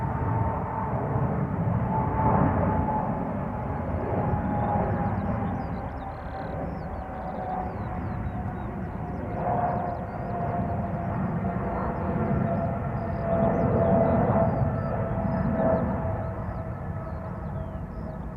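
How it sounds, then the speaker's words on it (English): A Boeing 777-300ER jet takes off at Schiphol Airport, a steady distant engine roar with a sustained whine that swells and eases over about eighteen seconds, heard alone with no voices. "Taking off from center is the 777-300 ER to Cape Town."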